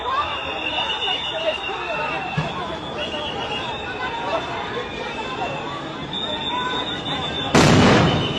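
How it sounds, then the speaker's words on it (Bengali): Sound grenades go off during a street clash between police and university students in front of Jamuna, a loud broadband blast near the end rising over constant crowd noise and babble. "সঙ্গে সাউন্ড গ্রেনেড ছোড়া হচ্ছে এবং জল কামানো মারা হচ্ছে"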